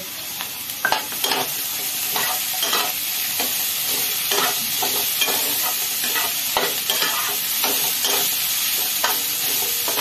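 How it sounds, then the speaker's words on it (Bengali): Tomato, capsicum, green chili and grated coconut fry in a hot pan, a steady close sizzle broken by the scrape and clatter of repeated stirring throughout. "এবার দিয়ে দিচ্ছি টমেটো আর ক্যাপসিকাম, কাঁচা লঙ্কা আর নারকেলটাও এখন দিয়ে দিচ্ছি, একটু ভেজে নেব"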